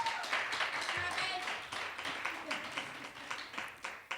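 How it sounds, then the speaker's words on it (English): An audience at a lecture series gives a faint round of applause, a patter of scattered claps with uneven rhythm that rises and falls softly throughout. "Another round of applause for him"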